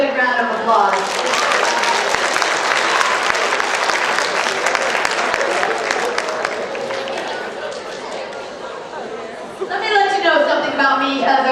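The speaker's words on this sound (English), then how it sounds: "Give yourself another big round of applause." A roomful of people applauds themselves at a live talk, with strong, sustained clapping mixed with cheering and chatter. The clapping fades toward the end, and a voice speaks as it dies down.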